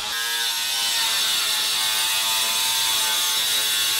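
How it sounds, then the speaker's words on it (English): An angle grinder cuts sheet metal for rear bonded windows in a VW Crafter van conversion, giving a loud, continuous, harsh high-pitched grinding screech that holds steady throughout. "currently using the angle grinder to cut the bits of metal for the windows, and it is so loud"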